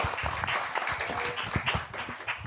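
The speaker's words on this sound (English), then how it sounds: "Can I have a warm applause for everyone who had the courage to speak?" An audience applauds at an arts professionals programme event, giving a lively round of many hands with individual claps standing out in an uneven patter, and a few voices faintly mixed in.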